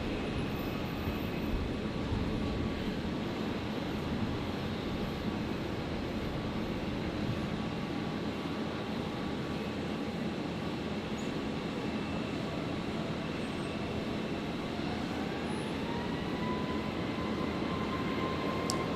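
A Jetstar Airbus A321neo jet rolls for takeoff on a runway at Brisbane airport, its engine roar a steady, fairly distant broadband rumble that holds level throughout with no speech.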